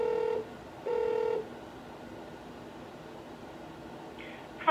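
A school phone call is transferred to another extension: two short electronic transfer tones sound about a second apart over faint line hiss, followed by a quick rising chirp of beeps as the line connects.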